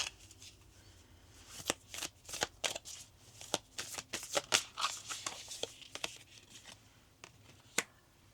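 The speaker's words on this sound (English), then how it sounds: "I wanted to draw some cards from the Moonology deck" A Moonology oracle deck is shuffled close by but quietly. The cards give sharp, irregular riffling snaps and soft slides that come in bursts over several seconds, with no speech.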